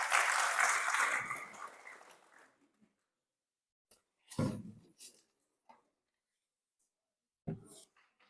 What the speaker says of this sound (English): Can we give him a welcoming applause?